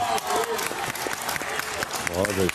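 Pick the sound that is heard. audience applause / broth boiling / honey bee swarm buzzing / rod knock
audience applause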